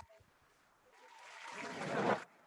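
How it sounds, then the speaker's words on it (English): A crowd-clapping sound effect from a music setup plays quietly, swelling into dense applause over about a second before cutting off abruptly. "So I can do things like this, right? Have the crowd clapping"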